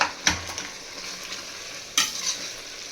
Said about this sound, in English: Now add turmeric powder. Mix well.